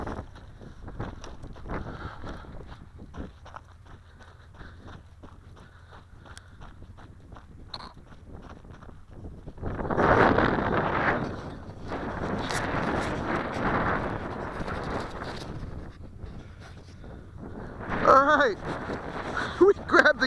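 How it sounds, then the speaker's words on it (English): Wind gusting outdoors while a Carbon Z Cub RC plane is flown, rough buffeting against the microphone that swells louder midway and near the end, with occasional voice. "That's kind of windy."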